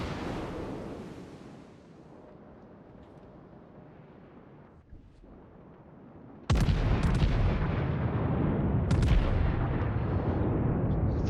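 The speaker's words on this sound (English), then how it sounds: "Fire a couple rounds off to the hipper there." Big naval guns boom in a warship battle game, a deep rumbling cannon roar that fades out, then a sudden loud salvo kicks in with continuous heavy firing and sharp follow-up blasts.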